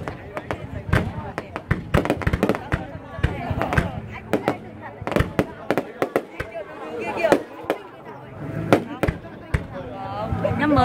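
Lunar New Year's Eve fireworks launching in Phú Xuyên, Vietnam, in 2018: a rapid, irregular string of sharp bangs and cracks, some near and loud, others farther off, with people talking underneath throughout.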